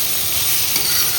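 Onion, capsicum and grated carrot hiss loudly in a hot pan, a dense, continuous close-up sizzle as the vegetables are stirred.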